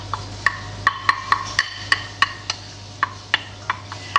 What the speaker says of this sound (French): On vient mélanger la petite préparation comme ceci.